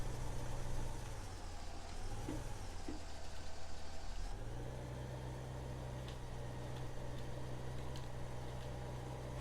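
Tractor engine droning steadily in the farming video game Farming Simulator 15, with a brief dip in pitch and level partway through before it settles into an even idle hum.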